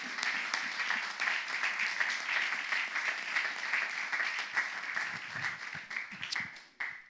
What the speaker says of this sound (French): Acclame pour Jésus de Nazareth.